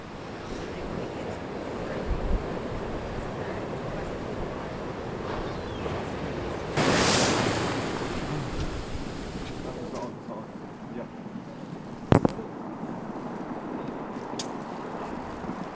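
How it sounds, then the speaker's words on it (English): Ocean waves wash steadily against the shore in a continuous broad roar, with a louder surge partway through, wind buffeting the microphone and a sharp knock near the end. "We are protecting the camera against the seemingly imminent threat of the ocean attacking us"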